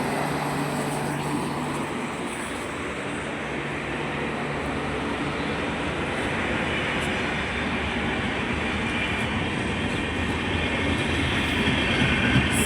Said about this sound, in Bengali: ওয়াইপ 7 লাগানো আছে ট্রেনটিতে